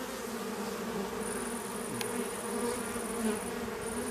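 Honey bees shaken from a drone-laying hive hum in a dense, steady buzz, fairly faint and continuous with no voices.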